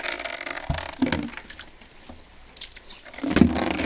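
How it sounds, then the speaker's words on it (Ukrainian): Splashy drips and trickles of rain mixed with snow landing in a bowl in a village, irregular and close, with brief louder splashes amid outdoor background noise. "хочу швиденько поставити миску щоб зібрати дощової води"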